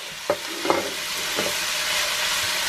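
Onions and garlic sizzle in a hot pan, with a few sharp stirring scrapes early on over a continuous frying hiss.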